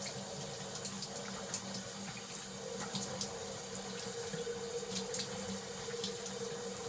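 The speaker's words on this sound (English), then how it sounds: "we're going to get our hair wet." Shower water runs steadily while hair is being wet, a dense, even hiss close to the listener with faint splashes and no talking.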